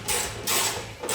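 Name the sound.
tightening a fender bolt on a Camaro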